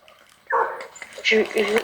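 A dog in the Fortnite video game gives a few short yappy barks and yelps in quick bursts, close and fairly loud, mixed with voices.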